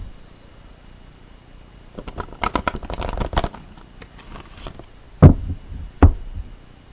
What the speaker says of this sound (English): Showing you that I am shuffling them.